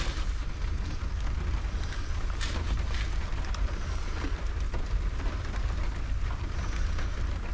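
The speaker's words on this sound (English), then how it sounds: "I'm in the van now because it's pouring down, as you can see." Heavy rain pouring onto a parked van on the East Coast at Paull during sea fishing, a steady dense broadband patter with a low drumming rumble on the roof, continuous and loud with no talking.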